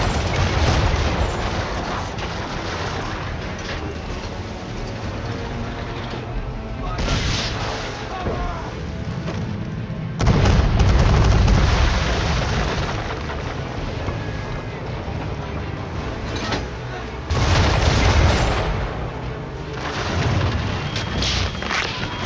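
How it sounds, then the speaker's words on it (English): Naval cannons fire chain shot from a sailing ship in a video game. Heavy booms recur amid constant loud battle noise, water and wind. "Chain shot should do the trick."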